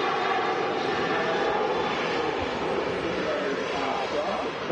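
Loud, steady roar of an airplane rolling along the runway at Manchester Airport, a broad engine rumble that fills the whole clip without letting up.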